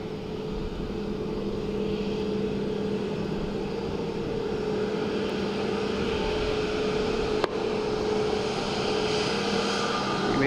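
An Airbus A320neo airliner at Dublin Airport makes a steady, distant jet roar with a faint engine whine, a continuous even drone throughout.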